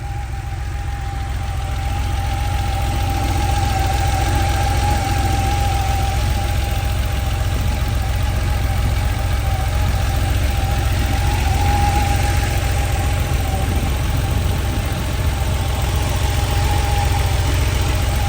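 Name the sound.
1986 Porsche 911 Coupé engine idling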